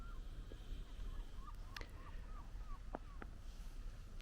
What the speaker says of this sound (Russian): На небольшом островке чайки крякают.